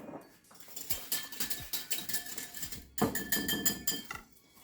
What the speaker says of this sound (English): you mix your dry ingredients with your liquid ingredients